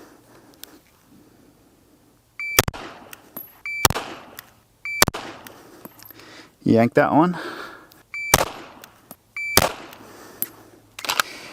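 At USPSA pistol practice, an electronic shot timer beeps and is followed by a string of sharp, close pistol shots in quick bursts. A voice speaks briefly in between.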